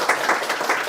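Brief burst of steady, dense clapping from a seated forum audience, close and even throughout.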